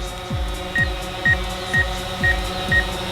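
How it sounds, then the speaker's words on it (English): A drone sits near a source of regular electronic beeping: short, evenly spaced double beeps repeat about every half second, each with a low thump, over a steady background hum. "Let's back it up a little bit so we get away from the beeping."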